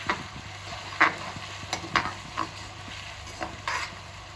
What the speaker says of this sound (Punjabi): ਇਹ ਫਿਰ ਆਪਾਂ ਇਹਦੇ ਵਿੱਚ ਪਾਵਾਂਗੇ ਸਾਰੇ ਮਸਾਲੇ ਤੇ ਮਸਾਲਿਆਂ ਨੂੰ ਥੋੜਾ ਜਿਹਾ ਪਕਾ ਕੇ